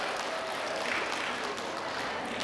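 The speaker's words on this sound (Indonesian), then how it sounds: "Tepuk tangan ki. Tepuk tangan." A crowd at an outdoor political rally claps steadily in a dense, continuous patter of applause, heard at a distance and fairly quiet throughout.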